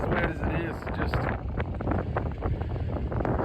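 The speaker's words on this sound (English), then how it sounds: "it's windy today" Wind gusting at a muddy outdoor logging site, a loud, close rush and buffeting against the microphone, steady throughout with a low rumble underneath and no clear speech.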